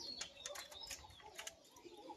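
A high-flying Rajshahi pigeon is released and flies off, soft wingbeats and faint chirps carrying over steady outdoor background noise.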